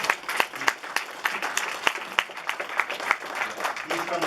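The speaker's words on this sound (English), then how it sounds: "A big round of applause for Henrik." An audience at a New York networking mixer applauds Henrik, a trainer flown in from Silicon Valley: steady dense clapping with sharp individual claps standing out, moderately loud and continuing throughout with faint crowd murmur.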